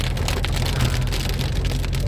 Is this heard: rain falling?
yes